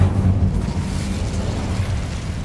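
An Incendio fire spell cast in Hogwarts Legacy, a loud, booming eruption of flame bursting at the start and rolling on as a dense, roaring rumble for a couple of seconds, close and alone.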